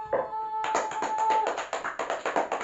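A class of second-grade pupils claps hands together in a rhythmic series of sharp, close claps, following a short tonal sound at the start.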